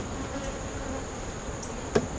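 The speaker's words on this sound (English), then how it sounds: "that's a decent amount of bees working that frame" Honeybees buzzing around a beehive frame, a steady close insect drone with a brief louder pass near the end, no voices.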